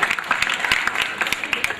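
Clapping from an audience at a Hindi poetry gathering, a brief burst of scattered hand claps close by, with some voices mixed in.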